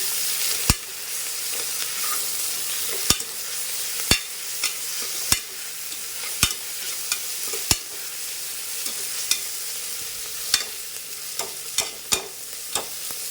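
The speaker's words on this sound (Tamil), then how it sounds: "இப்போ இது எல்லாத்தையும் சேர்த்து நல்லா வதக்கிக்கலாம்." Ginger-garlic paste, mint, coriander and curry leaves sizzle in a pan with a soft continuous fry, broken by sharp clicks and taps of a spoon stirring at irregular intervals, close and alone.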